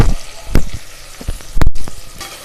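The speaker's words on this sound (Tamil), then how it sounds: "நல்லா வதக்கி விட்டுருங்க." Sliced big onions sauté in sesame oil for egg biryani, a close crackling sizzle broken by sharp stirring knocks and scrapes against the pan.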